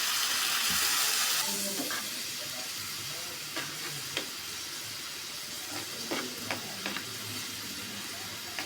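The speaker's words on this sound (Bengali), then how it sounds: "মশলাটা ভালো করে আমি কষিয়ে নিচ্ছি।" A loud burst of sizzling as a paste of turmeric, coriander and cumin powder with a little water hits hot oil, then a quieter steady fry with scraping stirs and clinks of a spoon in the pan.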